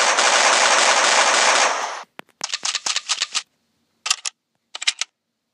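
Rapid full-auto burst from an ACR rifle customized as a submachine gun in a video game, a dense continuous two-second roar followed by shorter clattering bursts and two brief rattles, loud and close with no talk.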